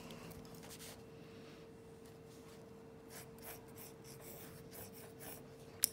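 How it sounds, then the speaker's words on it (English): An eraser rubs back and forth across a pencil drawing on paper, making faint, soft scratchy strokes in short repeated bursts. The sound is close but quiet over a low steady room hum, ending with a small tap. "So I'm gonna erase some of these."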